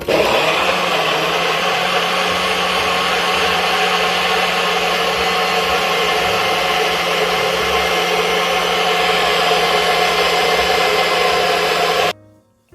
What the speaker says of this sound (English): blend until it's smooth, then I top it up with coconut water at the end